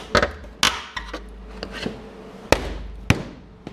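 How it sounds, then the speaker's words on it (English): Welds being broken off the metal body of a 1966 Plymouth Satellite give a few sharp, loud metallic cracks and bangs, close by and spaced irregularly, with quieter clinks and scrapes between them. "I'm breaking the welds."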